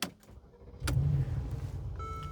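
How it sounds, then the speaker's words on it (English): A Mercedes-Benz G-Class G550 has its ignition switched on while parked: a click, then a steady low hum from the vehicle and a few thin electronic chime tones near the end. "Put that in the dash, turn our ignition on."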